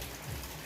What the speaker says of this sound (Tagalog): Umaambon na naman dito sa amin.